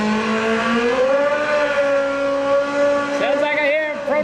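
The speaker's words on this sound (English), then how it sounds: "Pro Nitrous motorcycle." Pro Nitrous drag racing motorcycle at Maryland International Raceway, a loud sustained engine drone with rising pitch held steady for several seconds, then a sharp upshift-like change near the end, close and dominant throughout.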